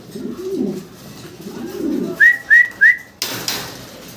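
Pigeons at a pigeon farm give three clear, close coos in quick succession, preceded by low rustling and murmurs and followed by a brief burst of broadband noise.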